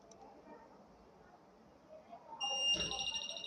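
A rain detector circuit's buzzer comes on near the end, a sharp, steady high-pitched electronic tone that starts abruptly after a quiet stretch with faint background noise.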